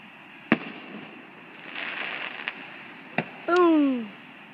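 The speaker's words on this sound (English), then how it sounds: "these are nice fireworks" Fireworks go off at an outdoor display, with sharp distant bangs spaced a second or so apart and crackling between them. One whistling rocket rises near the end, and there is no talk.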